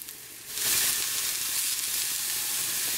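Vegetables with cayenne hit a hot pan and flare into a loud, steady sizzle that keeps going while they are stirred, with no voices over it.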